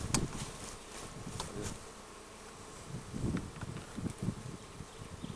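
Honey bees buzz around the entrance of a hive in a tupelo honey beekeeping yard, a steady soft hum with individual bees droning past close by now and then, no voices.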